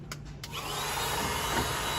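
A vacuum cleaner runs steadily, sucking coffee beans out of the jammed grinder of a Necta Opera espresso machine, starting with a couple of short bursts and then holding a constant loud whoosh.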